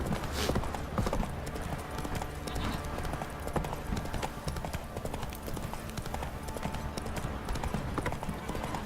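Roach, a horse in The Witcher 3, trots with steady, rhythmic clip-clopping hooves, close and continuous throughout, over a busy background.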